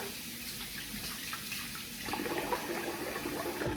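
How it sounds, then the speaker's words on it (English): Tap water runs steadily into a sink while a face is rinsed during a shave, a continuous close splashing stream that grows fuller and louder partway through. "Let's rinse the face"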